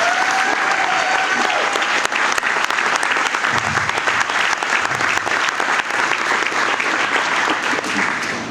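Loud, sustained crowd applause at a state senate campaign event, a dense roar of clapping that stays full and even throughout, with faint voices and cheers mixed beneath.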